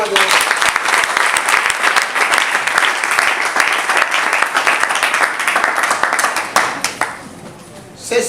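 A congregation at a church service claps in sustained, dense applause that holds steady and then fades near the end; loud and close, with crowd voices faintly mixed in.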